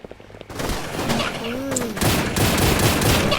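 Rapid gunfire from a gun in Roblox, a dense burst of shots close and loud, with a voice speaking over it.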